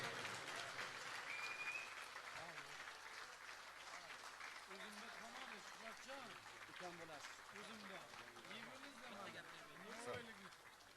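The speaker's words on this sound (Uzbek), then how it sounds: "Qarsak chalib qo'yamiz azizlar." Guests at a home gathering applaud together in a steady, dense patter of clapping, with voices murmuring and talking underneath throughout.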